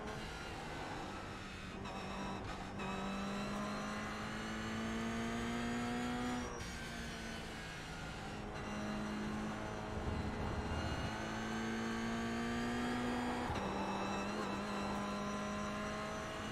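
A Toyota GR86 Cup race car runs a steady out lap to warm its tires. The engine drones loud and close, rising through the gears with several shift breaks, and wind and road noise rush underneath.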